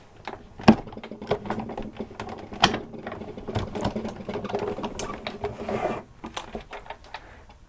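A manual die-cutting machine presses card stock for a Christmas card, giving a series of irregular clicks, clunks and grinding creaks as the plates roll through, with no talking.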